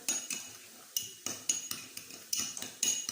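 A spoon clinks and taps against a bowl while mixing mayonnaise with hot sauce, giving bright, irregular metallic knocks about two or three per second, close and fairly quiet.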